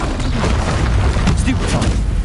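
A Confringo fire spell bursts in Hogwarts Legacy: a loud, dense blast of rumbling explosive noise that fills the whole moment amid busy game effects.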